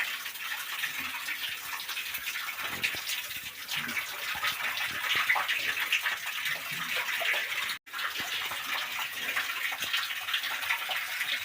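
Water gushes and splashes steadily inside a cave, a broad continuous rushing hiss heard up close, with a brief dropout near the end.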